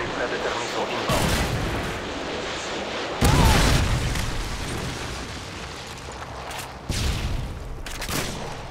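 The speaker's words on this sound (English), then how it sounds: "Friendly predator missile inbound." Predator missile strike in Call of Duty: Modern Warfare 2 free-for-all play: several loud booming explosions, one big blast around the middle and another near the end, over continuous rumbling battle noise.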